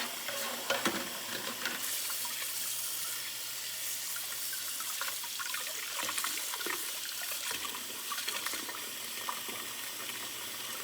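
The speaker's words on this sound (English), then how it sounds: "I will take the hose and just spray the instruments that I just scrubbed underwater" A hose sprays water steadily over scrubbed instruments in a manual decontamination rinse, a continuous close hiss and splash with small fluctuations and no talk.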